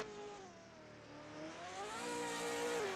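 Race car engine revving under throttle while climbing uphill during qualifying at Castelletto, a continuous rising and falling engine note with harmonics that builds louder, heard alone.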